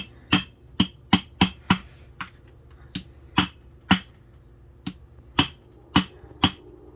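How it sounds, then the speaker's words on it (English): A small screwdriver unstakes bolts on a 2003 Honda Odyssey transmission with a string of sharp, close metallic taps, some quick and clustered, others spaced a second or so apart. "We're gonna go ahead and unstake our bolts right here."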